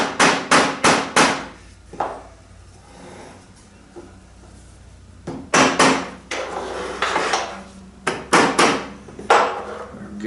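Sharp wooden-sounding taps in quick clusters as a router table's side guide is knocked level with the fence on a Jessem table, several bursts of strikes separated by short quiet gaps, close and loud.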